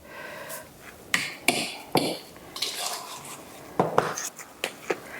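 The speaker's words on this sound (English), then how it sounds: "You can tell when I'm stirring it that it's getting pasty-like, sticky-like" A spoon scrapes and clinks through a thick, sticky matzo ball mixture in a bowl for grandma's chicken soup, with several sharp knocks and softer stirring strokes spread irregularly, faint talk in between.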